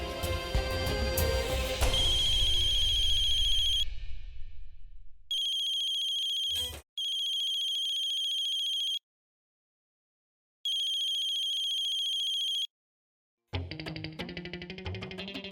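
A phone ringtone sounds in repeated electronic bursts separated by silent gaps, clear and close, following a passage of music that fades out, with more music starting up at the end.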